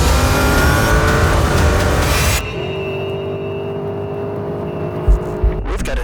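A Porsche Cayenne Turbo GT SUV engine roars at high speed through a turn, loud and steady, then the note drops abruptly as the throttle is released, leaving a lower hum with a couple of brief thumps near the end.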